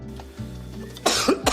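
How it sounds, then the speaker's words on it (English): A man coughs sharply a few times during a sitcom blooper, short harsh bursts close to the microphone, following a quiet moment. "Just like this blooper with Leonard coughing."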